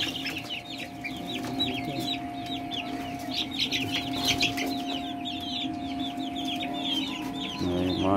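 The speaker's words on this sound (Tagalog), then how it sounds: "May mga inahin." Hens on a breeder farm clucking steadily, a dense chorus of overlapping calls close by with no talk.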